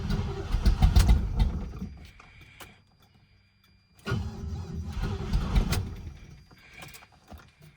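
A 1981 Cadillac Eldorado engine cranks on a jump box in a loud rough burst that fades out, then after a short pause cranks again in a second labored attempt without catching.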